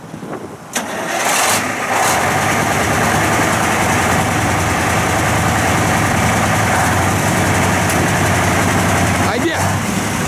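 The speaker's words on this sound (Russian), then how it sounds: "Все, давай заводи, Айбек." A MAZ 53366 refrigerated box truck's engine cranks and catches, then settles into a loud, steady idle close by. A voice calls out over the engine near the start.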